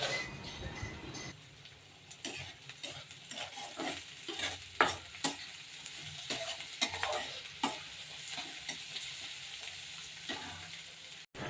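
Onion, peanuts, green chili, curry leaves, cumin and mustard seeds frying together in oil for poha, a steady close sizzle broken by sharp crackles and spoon scrapes at an irregular pace.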